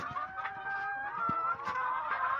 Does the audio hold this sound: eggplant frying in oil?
no